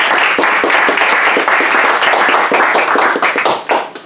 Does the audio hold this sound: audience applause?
yes